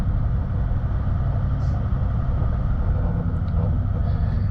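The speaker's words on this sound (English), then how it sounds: "you can hear the engine there starting to work climbing this hill because the sand's gone soft and thick again" A 4WD engine labours as it climbs a soft, thick sandy hill on a bush track, a loud constant low rumble heard from inside the vehicle.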